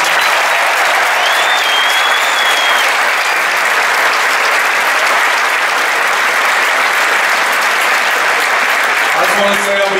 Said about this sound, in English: give him a big round of applause for coming out and support.